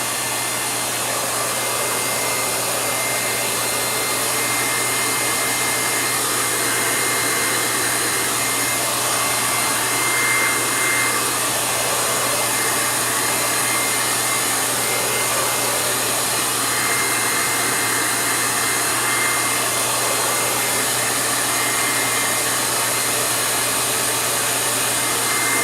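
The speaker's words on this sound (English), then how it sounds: "So when I dry my hair" A hair dryer blows steadily and loudly for the whole stretch, a constant broadband rush with a low hum underneath and no voices over it.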